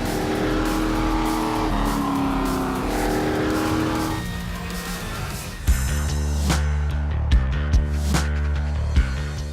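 Race cars circling a half-mile speedway at LA Racing, with a loud, close engine drone that rises and falls in pitch as they accelerate, then shifts into heavier rumbling with tire noise and a few sharp knocks.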